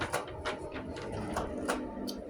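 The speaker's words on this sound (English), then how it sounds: "I think my printer has gotten stuck again" An inkjet-style printer at a comic convention artist alley prints, producing repeated whirring mechanical passes of the print head with short clicking bursts, moderately loud and steady, with no talk.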